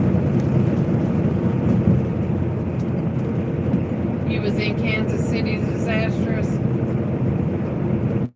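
Steady rain drums on a moving car while driving, a dense continuous wash over low road rumble, with faint higher ticks and squeaks partway through.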